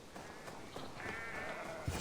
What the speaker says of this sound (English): Sheep! Can I pet sheep? Hello, sheep.